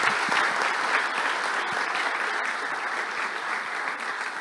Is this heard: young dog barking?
no